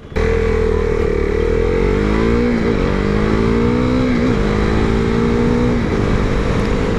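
A motorcycle under hard acceleration, a loud, close engine roar rising in pitch through several gear shifts, with steady wind and road noise underneath.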